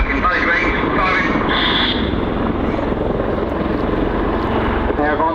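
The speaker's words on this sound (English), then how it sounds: "A pair of Army Air Corps Apache AH-3 attack helicopters run in, firing a next-generation Hellfire missiles from up to 12 kilometers away" A pair of Army Air Corps Apache AH-3 attack helicopters at a military airshow, heard as a loud, steady rotor and engine roar that fills the scene, with talk over the top.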